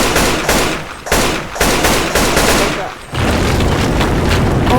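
Sniper rifle shots ring out in Teardown, a run of loud, sharp reports spaced about half a second apart with roaring decay and debris noise, followed by steady rumbling clatter, with no voices.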